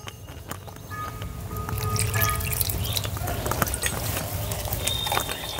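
Water being added little by little to a cabbage ball batter, with dense wet dripping and pouring sounds that run steadily and close up throughout, with no talk.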